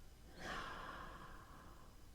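A person draws a slow, steady breath during a guided meditation, a soft airy rush that swells and then fades over about two seconds, heard close and alone.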